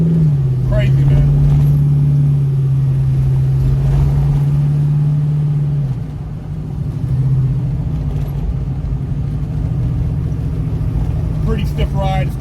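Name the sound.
600hp Chevelle car driving on freeway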